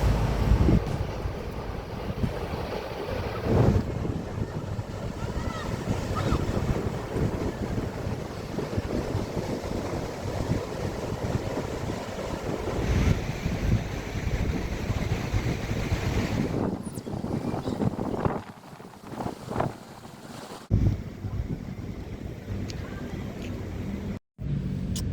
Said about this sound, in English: the waves don't look amazing. The wind's blowing the wrong way